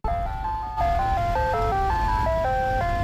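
The Lucky Duck ice cream truck plays its chiming jingle, a bright stepping electronic melody, loud and close, running steadily without talk.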